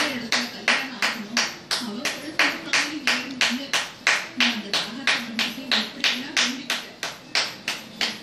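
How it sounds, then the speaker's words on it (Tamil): Steady rhythmic hand clapping, roughly two to three crisp, close claps per second, keeps time under a voice singing a children's song throughout. "எல்லாரும் ஜோரா கை தட்டுங்க"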